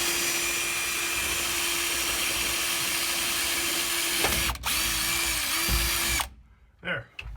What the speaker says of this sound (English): Just drill through the fiberglass.